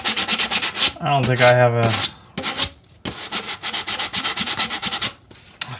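A plumbing drain pipe is polished by hand during a bathroom remodel, making fast, rhythmic rubbing strokes in bursts with short pauses; someone speaks briefly between them.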